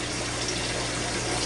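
Well water gushes steadily into an aquarium during a refill for a water change, a continuous broadband rush of pouring and splashing water close by with no voices.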